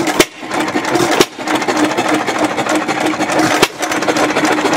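Hit-and-miss stationary engine sped up to run faster, a loud, close, continuous rapid chugging with a few sharp knocks standing out, and no talk.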